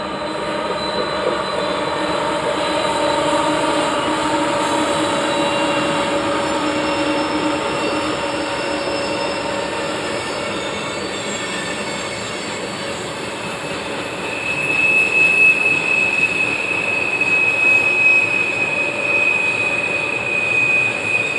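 A train rumbles steadily past through a track loop in the Feather River Canyon, with continuous rolling wheel noise, and a high metallic wheel squeal rises partway through and persists.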